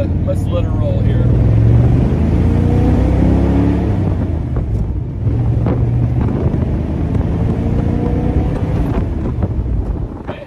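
A 1957 Ford Thunderbird with a rare three-speed manual and factory overdrive pulls away and cruises, its engine a steady low drone mixed with road and wind rush, continuous and fairly loud throughout.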